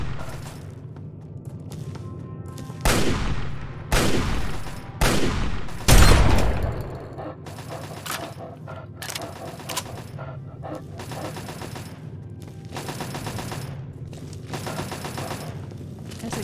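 Automated security turrets at the Jefferson Memorial museum in Fallout 3 let off several loud, separate bursts of gunfire, then keep up a quieter, rapid stream of shots.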